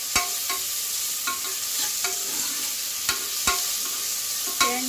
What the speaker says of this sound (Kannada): ಇದು ಈರುಳ್ಳಿ ಚೆನ್ನಾಗಿ ಫ್ರೈ ಆಗಲಿ